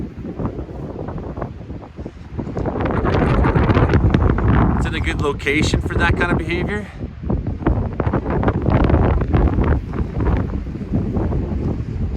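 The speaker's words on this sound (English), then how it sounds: "But it is blasting windy down here." Strong storm wind buffets the microphone outdoors in Wells, British Columbia, roaring loud and gusty throughout while someone talks over it.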